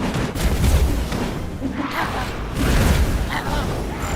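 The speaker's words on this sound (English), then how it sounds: "I see cannon fire coming from this thing." Tower cannons firing during a battle in the strategy game Dungeons 3, a continuous barrage of heavy booms and rumbling impacts that keeps up at a loud, even level.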